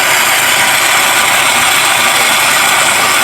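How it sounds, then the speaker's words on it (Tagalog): A loud, steady Tata Indica car engine idles continuously while warming up, with a constant low rumble and hiss, unchanging throughout, no voices. "Painitin muna natin yung makina ng konti."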